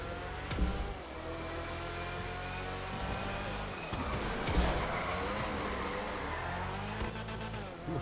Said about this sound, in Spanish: Ese coche suena a avión.